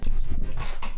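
A deaf dog pants close by in quick, steady breaths, loud and continuous with no talking over it.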